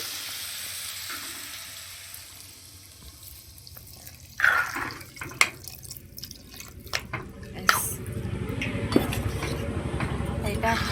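Water poured into a pot of cooking potato curry, splashing and sizzling over a steady background, with several sharp clatters partway through.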